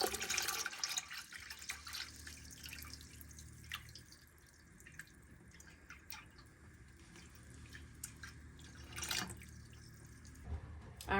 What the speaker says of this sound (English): the water is finally up to a boil